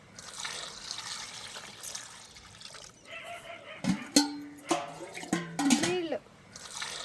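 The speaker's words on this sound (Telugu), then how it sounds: "ఇప్పుడు దీంట్లో కొద్దిగా పసుపు నీళ్ళు వేసి కలుపుతాను." Turmeric water is poured over cleaned stingray fish pieces and mixed in, giving close wet trickling and sloshing, with a few short voiced calls in the second half.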